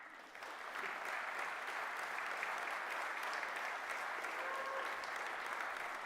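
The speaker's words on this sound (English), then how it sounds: "give yourselves another round of applause" Graduation ceremony crowd applauding in a large hall, swelling quickly to a dense, even roar of clapping that holds steady, with no voices over it.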